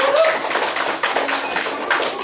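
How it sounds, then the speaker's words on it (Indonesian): A classroom group claps in a brief burst of scattered applause close by after a group presentation, with voices mixed in beneath the clapping. "Tepuk tangan untuk kelompok 1."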